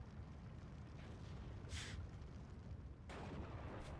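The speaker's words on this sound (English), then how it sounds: "81 mil mortar continues to blast" 81 mm mortar firing in the video game Steel Division 2, with two muffled booms, the second one louder, set against a steady low rumble of battle.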